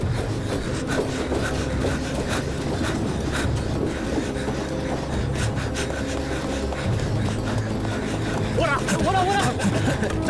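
A train rolls along in a Hindi-dubbed action film scene, giving a steady, loud rumble and clatter that lasts throughout. Faint voices sit underneath, and a few brief squealing tones rise near the end.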